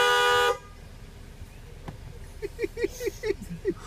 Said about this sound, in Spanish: Tócale bocina.